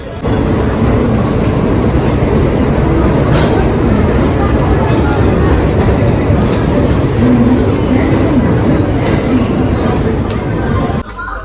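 A passenger train runs with a loud, continuous low rumble and rattling carriage noise throughout, heard from inside a coach, ending abruptly near the close.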